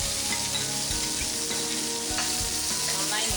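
Beetroot with chopped onion and torn green chili stirred in a hot pan, a steady dense sizzle with scraping spoon strokes throughout, close and loud.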